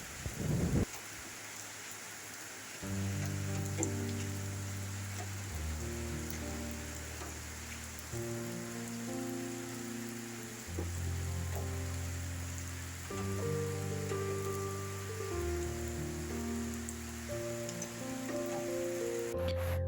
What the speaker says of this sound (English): I arrived home and it started raining